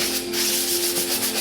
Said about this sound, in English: just using the spatula and some sanding